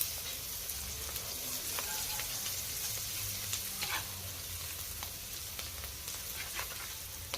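Chopped onions and chilli powder fry in hot oil in a kadai, giving a steady close sizzle with scattered crackles and light scraping from stirring, no voices.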